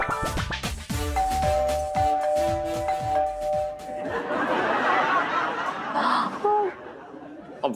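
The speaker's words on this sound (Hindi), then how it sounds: "जो भी घंटी बजा रहे हैं कान खोल के सुन ले" A doorbell rings in a rapid run of repeated electronic chimes, then people chatter and laugh nearby.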